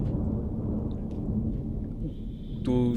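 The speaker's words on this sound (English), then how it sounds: "you hear like a crack of thunder" A crack of thunder with low rumbling that fills the whole clip, loud and close, ending in a brighter burst.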